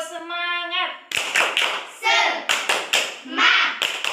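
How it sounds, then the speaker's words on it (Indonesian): Schoolchildren in a classroom lesson do a rhythmic 'tepuk semangat' clapping chant, sharp clap bursts falling in a patterned beat between chanted syllables, with a sung call heard alone before the clapping starts. "sekarang coba kita tepuk semangat ya"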